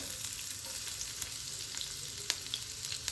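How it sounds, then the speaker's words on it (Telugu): Garlic pieces fry in two spoons of hot oil, a steady close sizzle with small crackles and pops and no talking. "ఆయిల్ 2 స్పూన్లు వేసుకున్న తర్వాత వెల్లుల్లి ముక్కలు"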